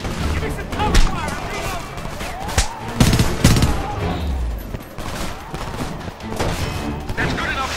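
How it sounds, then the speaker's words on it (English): Gunfire in the video game Homefront: a battle scene with bursts of rapid automatic fire, sharp shots and heavy booms layered close together, while voices shout over the shooting. "Give me some cover fire"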